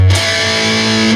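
Distorted electric guitar playing a short palm-muted riff, a sustained chugging tone held for about a second, close and loud with no talk.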